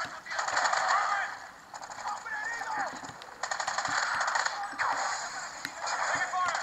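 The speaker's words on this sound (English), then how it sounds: "So doing some shooting, a little hard." Rapid automatic gunfire in the video game Call of Duty Ghosts, played via PS Vita remote play, rattles in dense continuous bursts with brief gaps, loud and close throughout.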